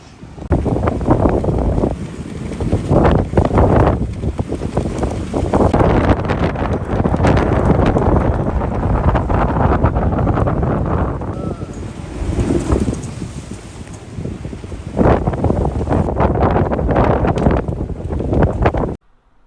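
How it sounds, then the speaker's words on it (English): Strong, buffeting wind gusts roar across an anchored sailboat in high winds in the Greek Islands, loud, continuous microphone-battering rushes that swell and ease over twenty seconds, with no clear talk. "They're like incredibly high speed gusts."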